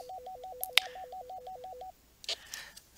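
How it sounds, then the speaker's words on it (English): Pressing the call button on a Baofeng handheld radio gives a fast warbling call tone that lasts a little under two seconds, with a sharp click partway through, and then brief bursts of noise. "So I'm going to hit that call button."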